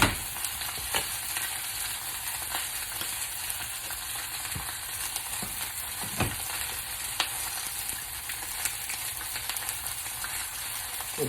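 A red snapper fillet fries skin-side down in a pan, a continuous bright sizzle and crackle with occasional sharper pops, steady and close for the whole stretch, no voices.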